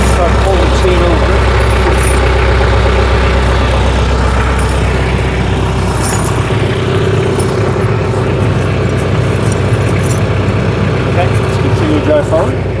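A tractor engine runs steadily and loudly nearby while winter tire chains are fitted, a constant low drone with faint clinks over it and people talking throughout.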